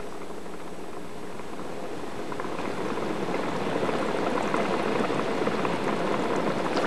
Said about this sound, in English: Water, heated by molten rocks, gushes up from deep underground, forming pools